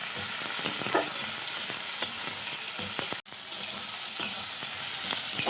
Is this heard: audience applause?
no